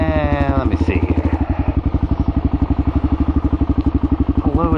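A Kawasaki KLR650 motorcycle engine thumps steadily at a low, even idle-like rhythm, loud and close, while a rider talks over it.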